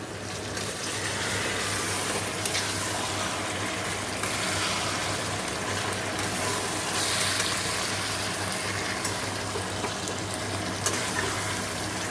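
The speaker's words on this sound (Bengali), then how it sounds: "দেখো আমি চিকেনে জল দিয়ে দিয়েছি এবার ফুটে যাবে ভালো করে একটু" Water runs steadily into chicken in a cooking pan, a continuous close hiss and splash lasting the whole stretch with no talk.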